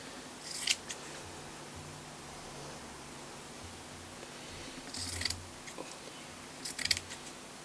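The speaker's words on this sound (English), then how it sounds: "you're going to cut along this line, along the fold." Scissors cutting fabric along the fold of a tea towel, a few short, quiet snipping bursts spaced apart against faint background hiss.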